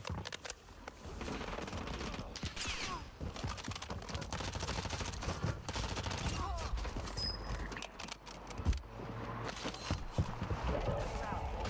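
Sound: gunfire in the video game Warzone

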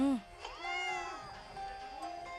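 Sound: cat meowing in a ghost child video game

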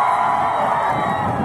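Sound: applause welcoming Salman

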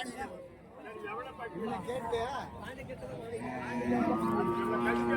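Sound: cattle at a livestock market

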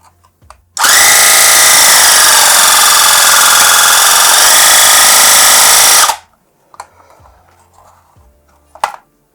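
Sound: STORM Compact Power 20700 car air compressor running

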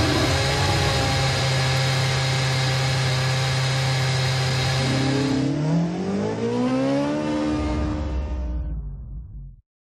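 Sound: F1 2013 race car engine, video game

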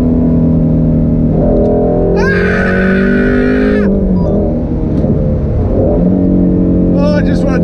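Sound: sports car engine revving to over 8,000 RPM

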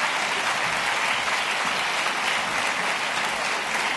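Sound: applause

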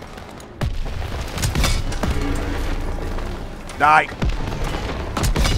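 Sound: gunfire in the video game Call of Duty WWII

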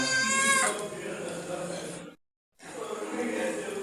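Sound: cat meowing

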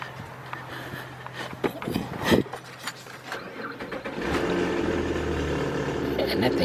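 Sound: noisy engine of a 2004 Nissan Quest 3.5 running

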